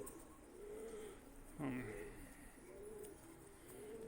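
A pigeon of the Kane wali breed coos in soft repeated phrases, faint and somewhat distant under a noisy background, with a brief sharper call near the middle.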